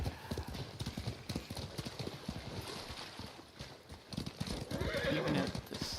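A horse's hooves clip-clop at a steady gait across marshy, rainy ground in Ghost of Tsushima, the quick rhythmic hoofbeats fairly faint, with a whinny near the end.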